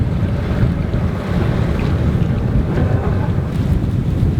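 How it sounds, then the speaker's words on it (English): A sailboat under sail with the engine off, wind buffeting the microphone as a steady roar and waves washing against the hull, continuous and close with no voices. "magical moment when the engine goes off and we're sailing."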